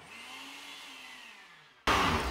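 A kitchen blender's steady whirring motor hum runs for nearly two seconds, then a much louder, harsher burst of motor noise cuts in abruptly near the end.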